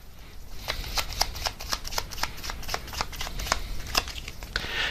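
Tarot cards shuffle in a steady riffling run, crisp repeated flicks and snaps up close, continuous for several seconds with no talking.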